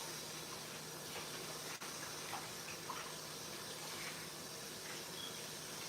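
Tap water runs in a steady, soft hiss while a dish towel is rinsed out in a kitchen sink, continuous and fairly quiet, with one brief knock partway through.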